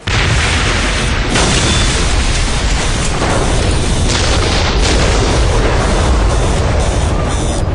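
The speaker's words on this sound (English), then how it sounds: "There is an explosion on Invictus's lower portions. Then another." Explosion sound effect in a Warhammer audio drama, a loud, sustained rumbling blast roar that fills several seconds continuously without pause, no voices over it.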